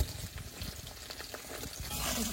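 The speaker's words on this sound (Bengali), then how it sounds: "আলুটা খুব ভালোভাবে ভেজে নিয়েছি" Potatoes frying in oil in a village kitchen give a steady, close sizzle with crackling bursts that swell slightly toward the end, with no voices over it.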